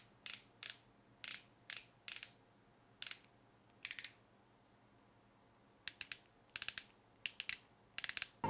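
Clicks from twisting up a Joah Beauty color corrector stick come in short, sharp ratcheting bursts. Quick clusters of clicks are separated by brief pauses, with a longer gap in the middle, close and quiet.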